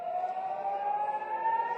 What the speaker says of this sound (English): the sirens are going off here in Tel Aviv